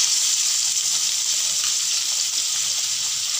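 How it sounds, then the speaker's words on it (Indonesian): Chopped onion frying in two tablespoons of oil in a wok, a steady loud hiss of sizzling that runs unbroken throughout with no talking. "dalam kuali yang sama saya masukkan 2 sudu makan minyak ah. Saya masukkan bawang besar"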